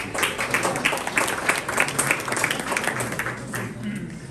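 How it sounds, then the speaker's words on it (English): An audience at an Imam's 70th birthday event applauds a guest singer, a dense, steady burst of many hands clapping for a few seconds, fairly close and uninterrupted. "We'll give her a round of applause"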